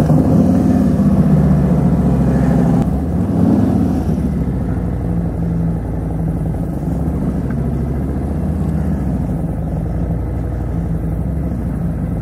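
A Harley-Davidson motorcycle underway on the road, its exhaust pipe giving a steady, loud low rumble that holds throughout with a slight dip in level partway, no talk over it.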